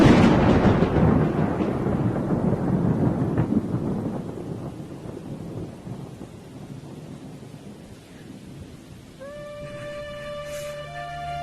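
Heavy rain with a long, rolling thunderclap that rumbles loudly at first and slowly fades into steady downpour; near the end a sustained musical tone enters over the rain.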